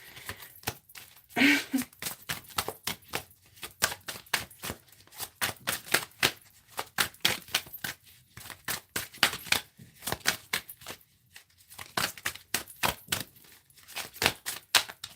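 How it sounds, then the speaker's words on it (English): A deck of tarot cards being shuffled by hand: a close, steady run of quick crisp riffling and tapping bursts, repeating in uneven rhythm throughout with no talk. "This card was sticking out like this as I was trying to shuffle."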